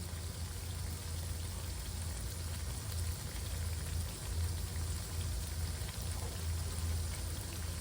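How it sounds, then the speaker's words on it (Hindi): Chakli fry in oil on a medium flame on a gas stove, giving a steady, even, rain-like hiss that carries on without pause at a low level. "हमें चकली को स्लो मीडियम ऐसे करके तलना है।"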